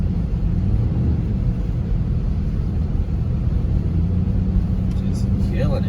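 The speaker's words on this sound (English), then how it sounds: "I love that muffler delete. That thing sounds so good." A car with its muffler deleted drives through a snowstorm, its exhaust a steady, deep rumble heard from inside the cabin, continuous and fairly loud.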